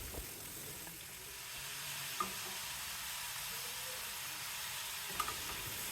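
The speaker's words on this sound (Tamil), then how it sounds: "இந்த வெங்காயத்தோட பீட்ரூட்டையும் சேர்த்து ஒரு 30 செகண்ட்ஸ் வரைக்கும் வதக்கிட்டு" Grated beetroot and onion sauté in a pan with a soft, steady sizzle, quiet and even throughout, marked by a couple of faint utensil taps.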